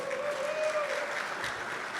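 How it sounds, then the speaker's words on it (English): Audience applause at a men's breakfast meeting hosted by the Newark mayor, a steady wash of many hands clapping at moderate level, continuous for two seconds with a faint tone running through. "We definitely want to give you a round of applause."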